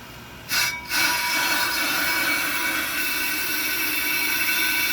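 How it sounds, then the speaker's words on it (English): An on-car brake lathe cutting a brake rotor: a steady mechanical whir and high-pitched grinding hum runs continuously after a brief startup, loud and close, with no talking. "it's going to back the cutting teeth out and across the rotor"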